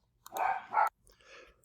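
A small pet puppy gives two quick close barks followed by a softer third yip, sharp and high-pitched indoors.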